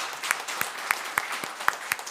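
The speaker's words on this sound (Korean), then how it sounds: "축하의 박수 하겠습니다." A church congregation claps during a Sunday worship service, a short, fairly faint burst of sparse, distinct claps spaced at a loose rhythm.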